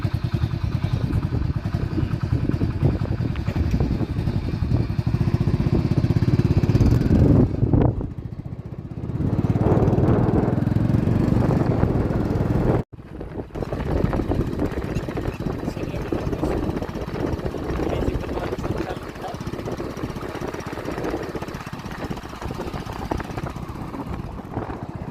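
A farm tractor engine runs steadily at close range, a loud continuous rumbling drone that dips briefly midway, with no talking.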